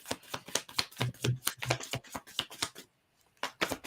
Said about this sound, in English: So let me shuffle my cards here for Anne Marie.